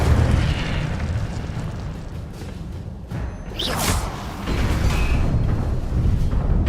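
Fire spell cast in Hogwarts Legacy on PS5 Pro, a loud whooshing burst that flares briefly midway over a steady roaring game background, with no voices.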